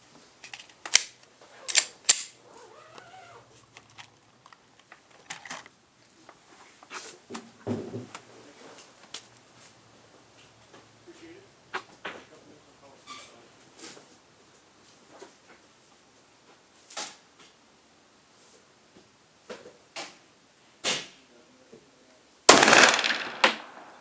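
A .40 S&W pistol fires 155-grain rounds loaded with about 7.4 grains of Power Pistol powder. Sharp cracks come at irregular intervals, each short and somewhat distant, with a louder, denser burst near the end.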